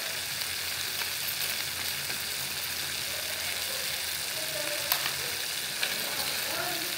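Beef and winged beans stir-fry in a pot, giving a loud, steady sizzle throughout with occasional faint scrapes and clinks of stirring, close up.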